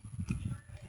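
Hooves of a horse clip-clop close by outdoors in a short, uneven series of thudding steps.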